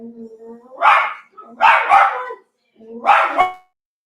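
Dogs bark nearby in a few loud bursts with short pauses between them, set against otherwise quiet surroundings.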